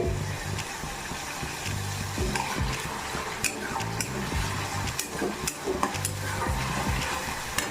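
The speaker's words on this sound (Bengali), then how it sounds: "ভালো করে কষাতে হবে" Masala with a pinch of sugar sizzles steadily in a pan while being stirred and scraped repeatedly, a close, continuous frying hiss with rhythmic spatula strokes and no talk.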